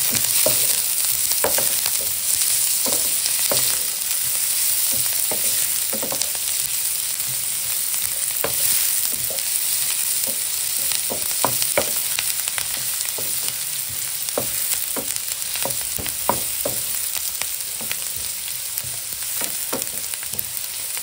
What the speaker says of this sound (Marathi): कांदा मिरची परतून घेऊया